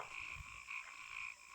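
Poisonous frogs croak in the video game Ahriman's Prophecy, a steady low game-audio loop with repeating croaks over a constant tonal hum, with no talking.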